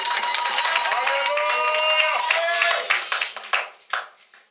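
A church congregation claps and shouts for joy, with a loud sustained mix of cheering voices and rapid clapping that thins into separate claps at the end.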